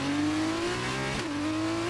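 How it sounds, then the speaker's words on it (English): An F2 race car revs at the start of a race in the F1 23 video game at Catalunya, Spain. The engine holds a loud, steady high whine that rises slightly, dips briefly, then climbs again, with no talking over it. "we find the perfect revs, hold the clutch in, and we're ready for the 5 red lights"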